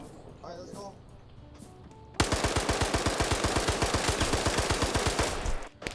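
Rapid automatic gunfire from Arma 3 bursts in loud and close after a quieter stretch of voices, a steady stream of sharp shots that keeps going for several seconds before cutting off.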